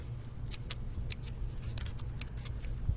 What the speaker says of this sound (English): make a series of tiny little cuts